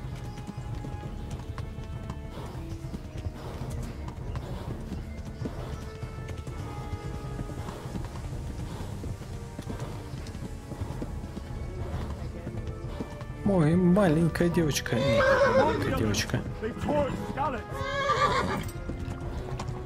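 A horse galloping in a video game, its steady clip-clop hoofbeats running throughout, with a sharp neigh and whinny near the end, under someone talking.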